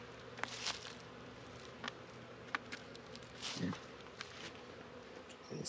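A crowd of honey bees buzzes in a hive opened on a spring inspection, a close, steady drone broken by brief taps and light rustles, with no talking.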